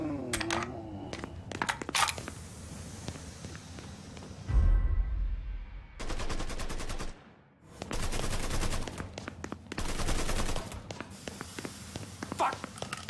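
Gunfire in the Mafia 3 video game: repeated bursts of loud shots and rapid automatic fire in clusters, with quieter gaps, a low thump and a voice speaking between the volleys.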